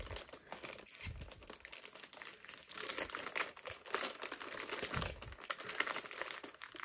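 Taped cardboard packaging of a Gigabyte B650 gaming motherboard box is pried and torn open, giving close crinkling, scraping and ripping noises with a few soft thumps.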